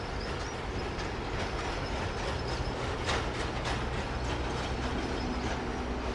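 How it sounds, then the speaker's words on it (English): Airport cargo trailers rattling over the ground on their wheels at Heathrow, a steady loud clattering, rumbling roll that carries on without a break, with a brief louder knock partway through and no speech. "it's the wheels of the trailers that you're hearing which make all the rattling noises"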